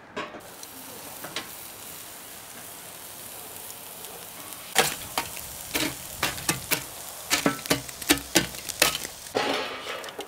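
Lyulya kebab shaped without skewers laid on a grill, broadband sizzling and hiss with sharp crackling pops building from the midpoint onward, close and steady, no talking.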